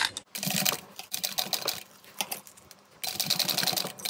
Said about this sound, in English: I'm going to open my zipper and I'm going to sew it from this side